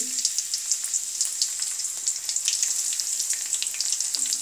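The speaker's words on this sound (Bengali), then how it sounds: "তো এর ভিতরে এখন আমি দিয়ে দিব পেঁয়াজ কুচি" Chopped onion sizzling in oil with bay leaves, cinnamon and cardamom, a bright crackling fry that holds steady and fairly close, with small pops scattered throughout and no voices.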